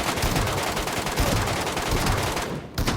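Sustained rapid gunfire in the battle-royale shooter Metro Royale, loud, close and dense, with bursts of automatic shots running almost the whole time before a brief dip near the end.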